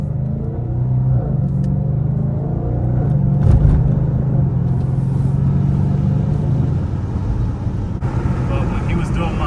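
An Audi RS5 with a 4.2L V8 drives at night, its engine producing a steady loud low rumble with a swell in the middle, heard from inside the car.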